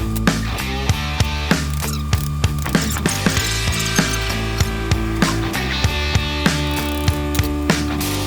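A ratchet strap is cranked tight on a vintage 1965 Yamaha Trailmaster motorcycle, giving a steady run of close, loud, crisp clicks at a regular pace over a continuous tonal hum.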